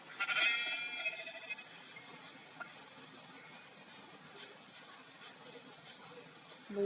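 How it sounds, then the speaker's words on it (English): Short, thin bleats of Minecraft sheep repeat at intervals against a quiet, hissy background, with a brief higher chirping tone at the start. "White color sheep guys."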